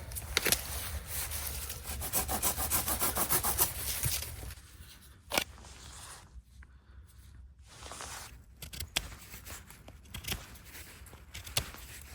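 A saw cuts through a green stick of recently dead wood outdoors by a frozen lake, giving a close, rhythmic rasping back-and-forth for several seconds, then pausing, followed by scattered scrapes, knocks and a few shorter sawing strokes.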